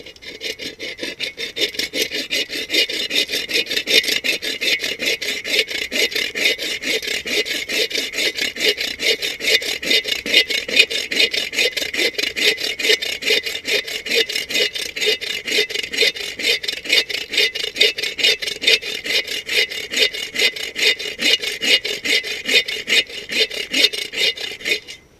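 A hand saw cuts through wood to make sawdust for tinder, a long run of fast, even rasping strokes, close and steady, heard alone.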